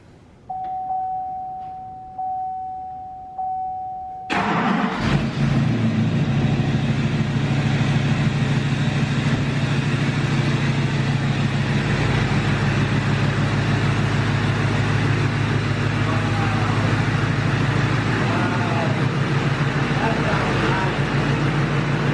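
A Duramax LMM diesel pickup truck with 240,000 miles chimes a few warning beeps before the engine cranks and catches, then settles into a loud, steady clattering diesel idle that continues, with voices talking nearby over it.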